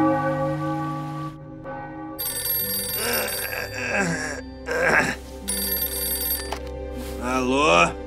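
A cartoon telephone rings at a hotel reception desk with a loud, repeated bell-like trill, mixed with animated music and character voices speaking over it.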